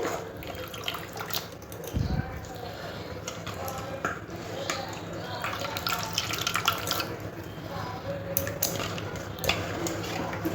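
A salted banana stem is squeezed by hand, water dripping and trickling close up with soft squelches and one brief knock, steady and without voices.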